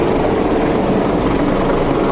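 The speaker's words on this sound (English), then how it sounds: "they are keeping an eye on everyone with the help of the helicopters." Helicopter flying over Singapore: a loud, steady, dense rotor and engine roar that fills the whole moment without letting up, close overhead and with no voices.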